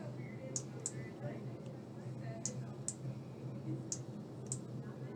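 A computer mouse clicks on a checkbox in an application form, several faint, sharp single and paired clicks spread over a quiet, low background hum.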